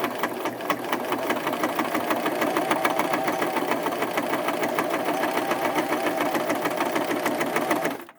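A Bernette 75 by Bernina sewing machine on its heavy-duty setting stitches through denim, running at a fast, steady rhythmic chatter from start to finish and stopping abruptly at the end, loud and close.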